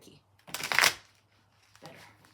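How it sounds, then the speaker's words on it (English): A deck of playing cards is shuffled in one quick riffle burst, then a softer second shuffle, close up with no talking. "These nails make the shuffle tricky."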